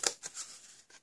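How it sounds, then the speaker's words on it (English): Scissors snipping cardstock for a foil-accented gift box, two or three quick, crisp close cuts within a second, fairly faint. "and snip up and remove this piece"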